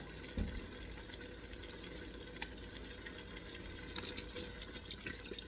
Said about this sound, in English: So I'm gonna put 2 liter water.